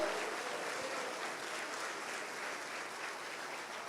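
Congregation applauding in a church, a steady wash of clapping that holds evenly at moderate level throughout with no voices above it.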